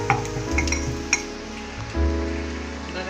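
Onions sizzle in hot oil for a mutton curry, a steady frying hiss with a spoon stirring and clinking against the pan, close and loud, with a low hum underneath and no talking.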